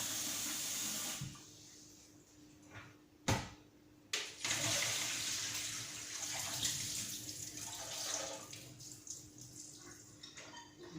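Dirty water drains off rice being washed through a filter, a close, continuous rushing and splashing of water with a sharp knock partway through and gurgling surges afterward.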